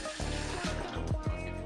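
Running tap water over jalapenos at a kitchen sink, a steady close splashing stream with a few gurgling surges over under two seconds.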